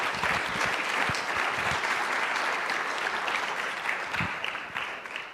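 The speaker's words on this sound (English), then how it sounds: "Let's give our participants a hand clap." Audience claps for participants at a talk, a full steady round of clapping that holds at a solid level and tapers slightly toward the end.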